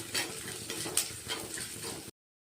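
Onions frying in sesame oil in a pan, a steady soft sizzle with a few stirring scrapes and utensil clicks, then the sound cuts off abruptly.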